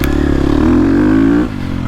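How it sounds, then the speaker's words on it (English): A KTM 250 Factory Edition dirt bike engine revs hard and close, holding a high buzzing scream for over a second before the throttle drops off to a lower idle-like drone while trail riding. "Still got that KTM scream, but it's just got so much more in the mid."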